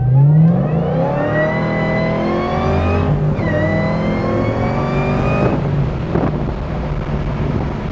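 A 1962-67 Chevy Nova on a SPEC chassis accelerates hard through a 1-2-3 shift, the engine note climbing steeply, dropping at each gear change and rising again, loud and close with wind buffeting throughout.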